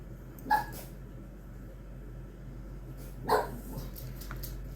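A dog barks twice outdoors, each a single short bark spaced a few seconds apart, moderately distant over a steady background hum with no one speaking.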